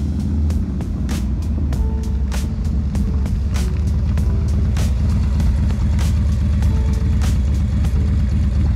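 A twin cam motorcycle engine fitted with a Sawicki exhaust pipe idles with a deep, steady rumble, with regular sharp clicks or pops over the low throb, close by and loud throughout.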